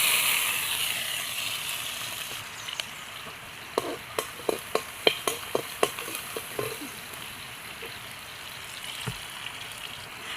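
Shallots, garlic and a small piece of ginger fry in about two tablespoons of oil in a pan, giving a steady soft sizzle with a run of sharp clicks and taps from a spoon near the middle.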